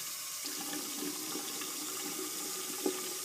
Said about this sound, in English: Adjust your water to the right temperature and force.